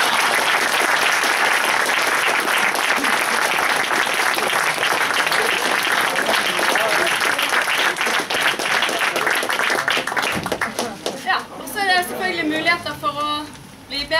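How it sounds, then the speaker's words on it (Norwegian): An audience at a school debate in Trondheim, Norway, breaks into loud, sustained applause for about ten seconds before it fades and a voice starts speaking. "så vil jeg at vi gir en stor applaus til Siri Gleim"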